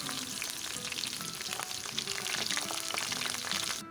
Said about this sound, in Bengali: একটু সময় নিয়ে আস্তে আস্তে উল্টে পাল্টে আমি এগুলো ভেজে